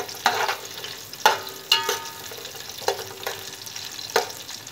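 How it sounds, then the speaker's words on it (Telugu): Green chillies and onions frying in oil for chicken dum biryani, with a steady sizzle punctuated by several sharp stirring scrapes at a slow, uneven rhythm, close and fairly loud. "రైస్ ప్రిపరేషన్ కోసం మొదటిగా మనం పచ్చిమిర్చి అండ్ ఉల్లిపాయలు వేసుకోవాలండి."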